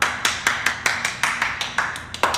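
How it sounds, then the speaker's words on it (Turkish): Hands clap about eleven times in a steady, even rhythm, each clap crisp and sharp at close range, with no voices. "Gerçekten seni alkışlıyorum"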